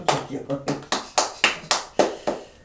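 A lone person claps hands in a slow, even rhythm, about eight separate claps, close and fairly soft, with a voice briefly heard at the start.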